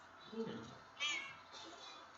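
A house cat meows twice up close, with a short, higher cry in the middle and a softer trailing call, while a person speaks quietly around it.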